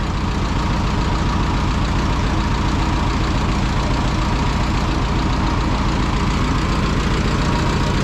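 An Oliver 440 tractor's small Continental four-cylinder engine runs at a steady idle, a loud, even, close-up chug with a rapid regular pulse and no talking.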